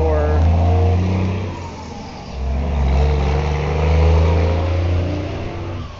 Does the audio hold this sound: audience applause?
no